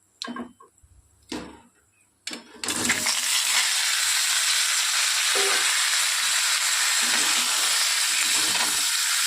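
Small green mangoes dropped into hot oil for a sweet-sour-spicy pickle, bursting into a loud, steady sizzle that fills the rest of the clip after a few sharp clicks and taps at the start.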